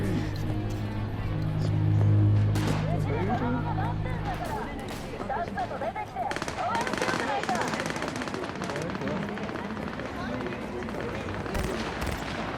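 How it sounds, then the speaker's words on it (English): Rapid machine-gun fire rattles in the Cyberpunk 2077 video game, bursting over a dense layer of crowd babble while a voice talks throughout. "Gunfire and everything rattling off over there."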